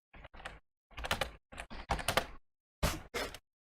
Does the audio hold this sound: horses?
no